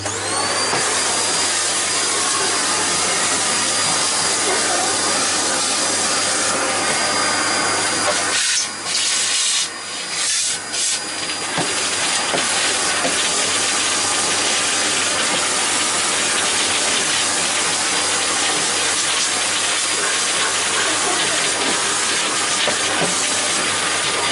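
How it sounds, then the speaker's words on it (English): A household hoover vacuum cleaner runs loud and steady, close by, with a brief dip in its roar partway through as it is moved about during a desk clean-up. "And I'm going to quickly give this a whiz with the hoover."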